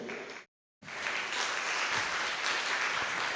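Church congregation clapping hands together, a brief burst of dense applause, then a short silent gap, followed by sustained steady clapping from many people in a large room, with no talk.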